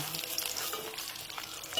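Paneer cubes fry in a pan, a steady soft sizzle of oil with light crackling throughout, close but fairly quiet.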